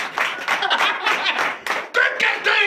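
Church congregation clapping together during a Sunday service in Benin, fairly loud and close, with an uneven burst of hand claps mixed with voices and cheering.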